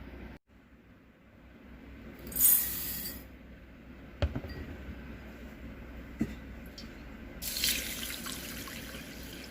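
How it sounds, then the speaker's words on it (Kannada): Clean water poured into rinsed basmati rice in a kitchen to soak it, heard as a few short bursts of running, splashing water with quieter trickling and small knocks between, close by and with no talk. "ಇವಾಗ 1-2 ಸಲ ತೊಳೆದ್ಬಿಟ್ಟು ನಾನು ಒಳ್ಳೆ ನೀರು ಹಾಕಿ ಇಡ್ತಾಯಿದ್ದೀನಿ"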